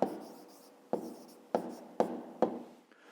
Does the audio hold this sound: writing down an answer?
yes